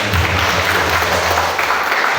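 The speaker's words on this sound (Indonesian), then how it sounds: "Yang percaya berikan tepuk tangan" A Philadelphia GSPDI church congregation applauds in worship, a short burst of loud, dense clapping filling the hall without pause.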